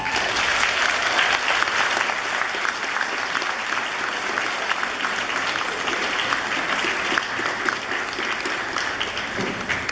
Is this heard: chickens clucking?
no